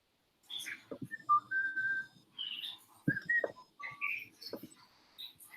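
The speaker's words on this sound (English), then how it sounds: "I hear a bird. Chirp, chirp, cheep, cheep. Someone's got a pet bird." Small pet bird chirping and whistling indoors, a run of bright tweets and short trilled calls close to the microphone, irregular and fairly loud against a quiet room.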